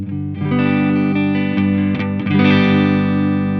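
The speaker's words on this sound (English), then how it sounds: "We are testing it through the Laney Lionheart pedalboard amp, so let's see how it handles some clean tones." Valiant Mercury electric guitar played through a Laney Lionheart pedalboard amp: several sustained chords ring out loud and close, with a few quick strums and a wide, harmonically rich tone.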